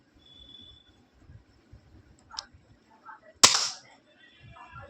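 A toy gun fires once with a sharp, loud crack followed by a short ringing tail, amid low background rumble and a faint earlier click.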